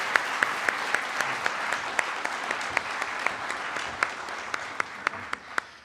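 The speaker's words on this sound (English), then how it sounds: "please give me a very, very, very good round of applause thanking our speakers and Amber." A conference panel audience applauds to thank the speakers, a steady wash of clapping from a medium-sized crowd with a few sharp individual claps standing out, gradually tapering near the end.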